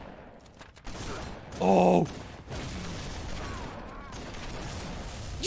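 Halo 3 multiplayer gunfire, a short burst of automatic shots followed by more distant weapon noise and game sounds, with players talking over it.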